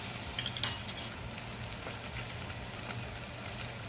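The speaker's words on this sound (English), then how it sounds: "that fish has been searing off for about 2 minutes" Halibut fillet searing in a hot pan, a steady close sizzle and crackle with light stirring and utensil clinks over a low hum, no talking.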